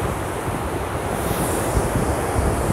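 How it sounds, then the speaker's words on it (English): Rough sea after a night storm, big rollers surging and breaking in a steady, continuous roar with wind buffeting the microphone throughout. "the sea is still extremely rough from the night storm. Some big old rollers."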